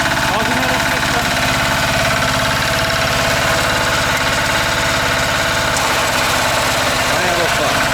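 A walk-behind tractor cultivator (motoblok) runs close by with a loud, steady single-engine chug and a rapid, even firing rhythm that continues unbroken throughout.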